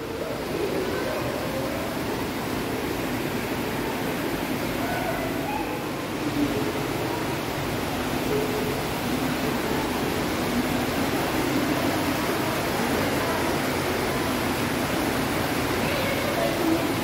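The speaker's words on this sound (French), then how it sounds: "Et là, ouais, on entend une cascade." A waterfall inside the Grottes de la Balme cave makes a constant broadband rush of falling water that echoes through the cavern and holds steady at moderate loudness throughout.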